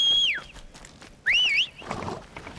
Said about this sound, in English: I'm whistling to you.